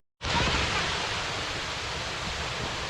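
A waterfall on a hiking trail in Red River Gorge, Kentucky, roars as a steady, loud, broadband rush that starts abruptly and holds constant throughout, with no voices over it.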